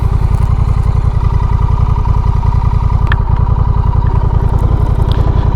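Motorcycle engine running steadily while riding, a loud, close, fast rhythmic thrum that stays constant throughout with no talk.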